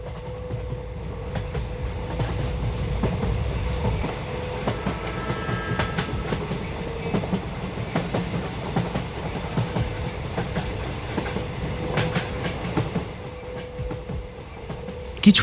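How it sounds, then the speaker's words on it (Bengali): A passenger train runs along the rails with a continuous rumbling roar and regular clickety-clack beats from the wheels over the joints, heard close and alone. "যথাসময়ে ট্রেন এলো"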